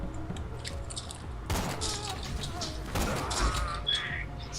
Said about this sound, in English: It is satisfying to snipe.